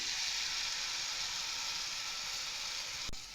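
Coconut and date jaggery filling sizzles steadily in a pan while being stirred, a continuous close frying hiss with a faint knock near the end.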